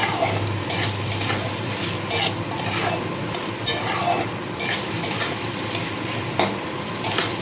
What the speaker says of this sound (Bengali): সেই আদা বাটা রসুন বাটাটা দিয়ে দিলাম তেলের সাথে খুব ভালো করে মিশিয়ে নিচ্ছি